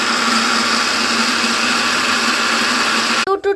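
A mixer grinder blending henna leaves with water runs as a loud, steady close-up whir and hum, then cuts off abruptly near the end with a few brief sputtering bursts as it winds down.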